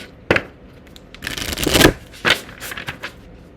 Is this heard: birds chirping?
no